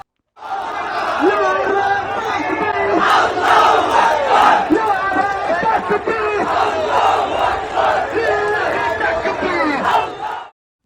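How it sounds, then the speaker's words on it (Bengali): A large protest march at Dhaka University chants slogans in unison. Loud, rhythmic massed voices rise and fall steadily, close by, throughout. "একদিকে চলছে নারাই তাকবির আল্লাহ আকবর স্লোগান আবার অন্যদিকে চলছে জিয়ার সৈনিক স্লোগান"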